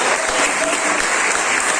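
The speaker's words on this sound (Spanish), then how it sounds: "denle un fuerte aplauso a este que vive y gobierna por toda la eternidad" Congregation in a Christian church service breaks into strong applause, a thick, continuous roar of clapping filling the room throughout the brief moment.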